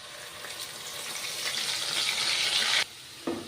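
Onion puree sizzling hard as it drops into hot oil for the curry tempering, a loud steady hiss that runs without a break before cutting off sharply, with a short clink right after.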